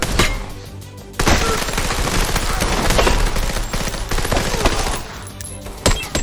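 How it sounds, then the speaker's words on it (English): Rapid bursts of gunfire and fusillades play back loudly from a video, dense and continuous for several seconds, with sharp individual shots standing out near the end. "He's shooting at them."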